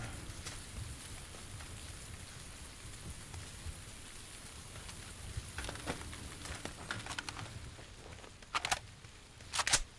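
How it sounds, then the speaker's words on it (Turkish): Steady, soft video game rainfall patters throughout, with a few louder drops and splashes near the end. "Yağmur sesini çok güzel mi yapmışlar?"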